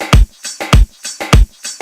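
A sample chopped into a stuttering pattern in Logic Pro: three punchy, bass-heavy hits that repeat evenly about every 0.6 seconds, each followed by a softer fragment. The hits are loud and close with no voices over them.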